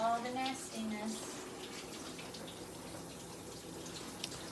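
Tap water runs steadily into a sink as grapes are rinsed under it, a faint constant wash with a few brief clinks, and no one speaks over it.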